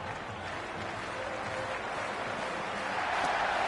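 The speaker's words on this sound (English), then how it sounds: "It's evident and ever so audible that the crowd is at near bursting point at today's play" Stadium crowd at a cricket match in the video game Cricket 26, a dense, steady roar of cheering and clapping that swells slightly toward the end, with a commentator's voice woven underneath.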